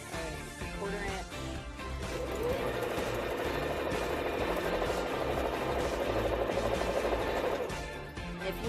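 Sewing machine stitching a quarter-inch quilt seam, a continuous fast mechanical whir with rapid needle ticking, steady and close for several seconds.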